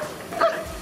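A single short bark from a rescue dog at a disaster collapse training ground, sounding at mid distance against a faint steady background.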